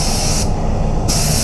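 A spray gun lays clear coat over a BMW 118d panel, a loud close hiss broken by a short pause before the spraying resumes.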